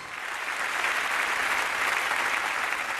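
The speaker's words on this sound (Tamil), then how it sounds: "நல்லா கைதட்டுங்க" An audience bursts into steady, full applause, with many hands clapping together in a close, continuous roar that swells slightly at the start and holds to the end.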